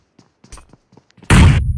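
A single loud gunshot bursts out in a first-person shooter game, sharp and close, after some scattered quiet clicks and thumps.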